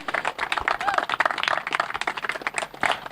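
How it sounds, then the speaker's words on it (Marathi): An audience at a cricket tournament prize ceremony claps in a dense burst of applause, close and lively, filling the whole moment. "एकदा जोरदार टाळ्या मिस्टर समीर वेंगुर्लेकर याच्यासाठी"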